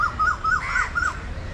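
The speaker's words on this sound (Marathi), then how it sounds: "कोकिळेचा आवाज ऐकला" An Asian koel calls in a string of about five rising, whistled notes with an even rhythm, heard clearly at moderate distance.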